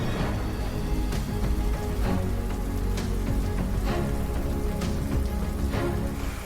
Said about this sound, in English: It's raining. The rains have finally arrived, so this is great, and it's really heavy.